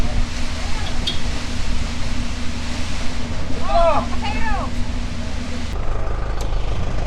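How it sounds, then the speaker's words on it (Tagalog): Strong wind on Polillo Island buffets the microphone in a constant roar, with a brief faint voice partway through. "Lakas ang hangin."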